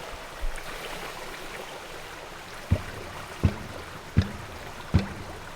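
An airsoft gun being lowered and submerged underwater, heard as faint steady water churn with four sharp, evenly spaced knocks near the end, and no voices.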